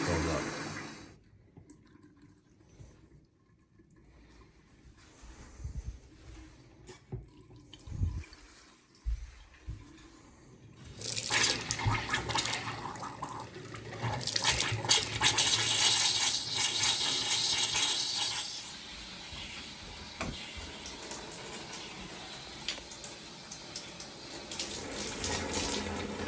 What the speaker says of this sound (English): open up all the hot water faucets, bleed the air out of those while this fills up